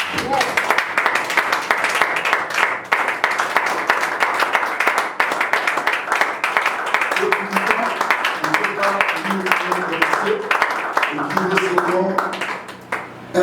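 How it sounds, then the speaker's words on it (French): A church congregation applauds, with a dense, steady patter of many hands clapping at close range for the whole stretch and voices rising alongside it in the second half. "On acclame pour la parole de Dieu"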